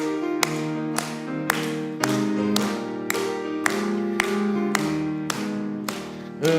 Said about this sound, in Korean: 우리 힘차게 박수 치시면서 찬양하겠습니다